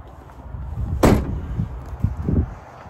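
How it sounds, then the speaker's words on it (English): A 2017 Citroen Dispatch van's sliding side door slides and slams shut in one sharp, fairly close thud, with a few softer knocks and clunks after it. "sliding doors on both sides"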